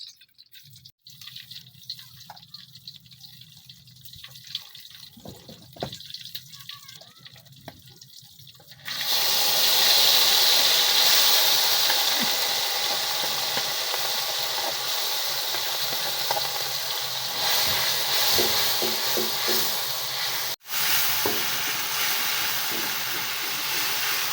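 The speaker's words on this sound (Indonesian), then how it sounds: "Kita goreng bumbunya." A quiet start gives way at about nine seconds to a loud, steady sizzle of spices frying in a hot pan in a hut kitchen, hissing continuously with faint clinks.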